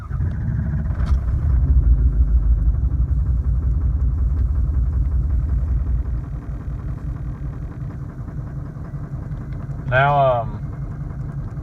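A 2003 Ford F250 with a 6.0 Powerstroke diesel and a bad misfire starts up, then settles into a close, steady, rumbling idle while someone talks over it.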